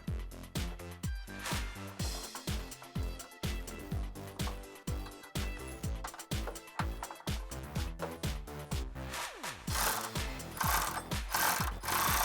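A 10mm socket ratchet tightens an intake bracket bolt on a 2009-2013 Silverado 1500 5.3L during a cold air intake install, producing rapid, rhythmic ratcheting clicks in quick repeated strokes, close and steady.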